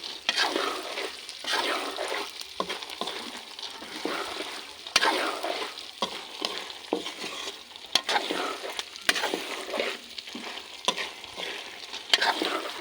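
Salted peanuts frying and being stirred in a pan, giving a steady close sizzle broken by scraping stirs and small crackling pops throughout, with no talking.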